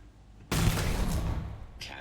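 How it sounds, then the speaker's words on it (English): Gunfire in the video game Starfield breaks out suddenly as a loud, dense burst of shots that rolls on steadily for over a second, then trails off into a brief hiss. "I am opening fire."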